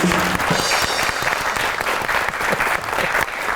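A studio audience on a comedy talk show claps for an arriving guest, bright close applause with sharp individual claps that stays loud and lively throughout.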